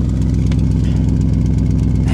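A 2021 Audi RS Q8 with hail damage idles with a steady, deep, rumbling engine note and a mild throttle blip, close and alone without talk.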